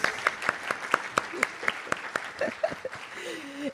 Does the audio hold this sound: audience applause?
yes